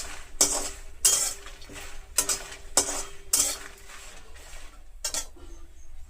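Peanuts and dried red chillies frying in a pan for peanut chutney powder, with repeated sharp scraping and clinking of a utensil stirring against the pan over a soft frying hiss.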